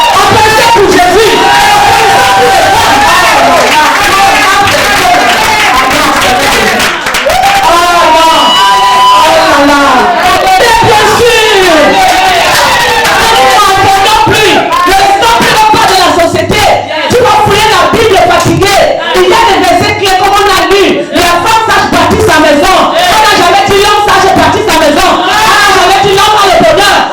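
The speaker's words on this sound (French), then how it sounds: "Applaudissez pour Jésus." Church congregation cheering and shouting with loud, sustained collective voices, whoops and exclamations over music during worship, dense and continuous for the whole stretch.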